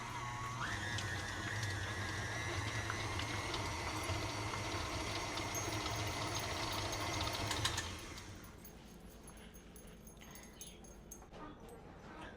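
A KitchenAid stand mixer whirs steadily as it beats two blocks of cream cheese, a loud even motor hum that cuts off partway through, leaving quieter room sound and a dog whimpering nearby.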